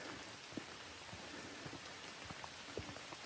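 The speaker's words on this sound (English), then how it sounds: "Yeah, it started raining on me." Steady rain patters on a forest canopy, leaves and ground on a trail at Alexander's Ford, with scattered heavier drops tapping nearby; soft and continuous, no voices.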